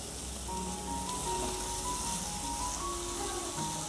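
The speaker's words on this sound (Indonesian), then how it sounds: "Kita aduk rata seperti ini." Sate seasoning with sweet soy sauce being stirred, a steady broadband sizzle-like hiss of wet mixing that runs continuously at moderate level, close by, with no talking.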